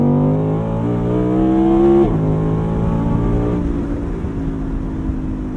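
An Audi R8 Performance Spyder RWD supercar engine revs hard under acceleration with paddle-shift gear changes, loud and close, rising in pitch before a sharp drop at a shift, then climbing again.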